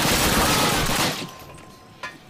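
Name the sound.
gunfire in the video game Call of Duty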